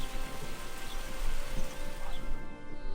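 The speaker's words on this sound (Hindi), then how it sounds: "अचानक तेज बारिश शुरू हो जाती है" Heavy rain pours steadily over a farm field with crops, a dense, even hiss of drops with no talking over it.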